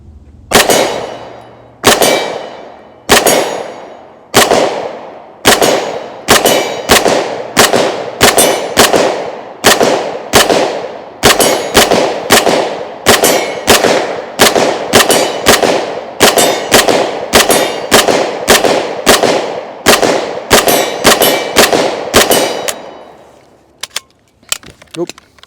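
Century Arms AP5 pistol firing 124 grain NATO brass-cased ammunition outdoors, a long string of loud, sharp reports, single shots, then quick runs, with a brief pause mid-string before the firing stops.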